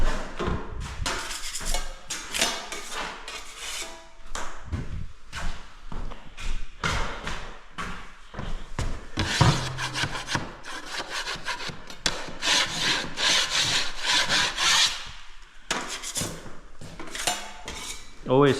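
Scraping tool works over drywall plaster on a square set doorway opening, a dense run of rough, gritty scrapes and occasional knocks, close and continuous.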